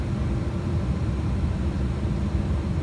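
A steady, broad engine drone fills an MD-11 airliner cockpit in a flight simulator game. The noise stays even and constant throughout, with no voices.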